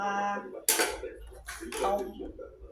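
Tomatoes and chili pounded for Thai papaya salad, heard as a few sharp knocks and clatters of the pestle in the mortar, with someone talking over them.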